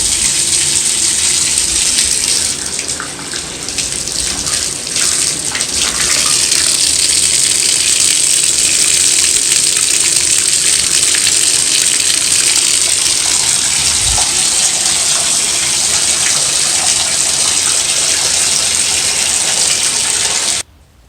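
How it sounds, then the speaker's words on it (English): Water runs hard from a tap into a bathtub, a loud, steady gushing rush that fills the tub without pause before cutting off abruptly at the end. "I'm done running the water"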